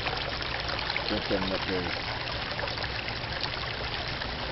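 Water trickles and splashes steadily down a decorative backyard waterfall with turtle figures, a continuous close wash of noise while a person speaks briefly over it.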